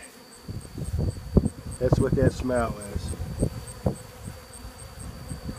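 Honey bees buzz and hum in front of a hive in autumn, a steady insect drone running throughout while someone talks over it.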